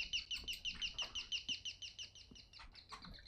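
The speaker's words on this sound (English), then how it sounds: "is that like a doorbell? It must be. It's like supposed to sound like a bird." Bird-like doorbell chime giving a quick series of bright, repeated chirping notes in an even rhythm, fairly faint, with small knocks and household clatter underneath.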